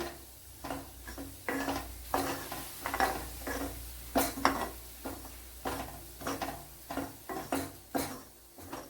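Pepper powder fried with turmeric and stirred in a pan for sambar, heard as steady rhythmic scraping and stirring strokes with a soft sizzle underneath, close and moderately quiet, no talk.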